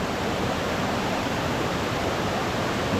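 Steady, full-band rush of a large waterfall at Alegria, Cebu, a broad continuous roar of falling water with no breaks, close and loud, no voices.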